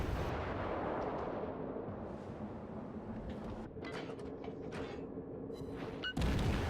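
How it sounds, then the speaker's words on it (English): Kuma-class Japanese light cruiser guns in World of Warships firing shells at a quick rate: repeated sharp booming reports over a steady rumbling engine and sea background, ending with a louder burst. "Spotting an enemy destroyer, I open fire. The fast rate of fire on the Kuma-class cruiser allowing it to fill the air with shells."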